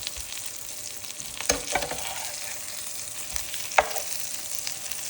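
Crumbed fish sizzles steadily in butter and olive oil in an electric fry pan, a continuous close frying hiss broken by a few sharp clicks and knocks of utensils against the pan.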